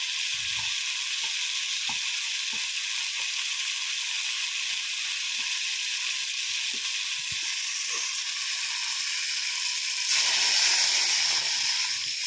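Mustard paste mixed with water is poured into a pan of sautéed mangoes for a tomato fish curry, giving a loud, steady sizzle that swells briefly near the end.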